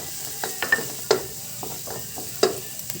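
Onion and garlic sauté in a pan for a Filipino ground-pork omelette (tortang giniling), with a soft sizzle under a few sharp utensil taps and stirring scrapes.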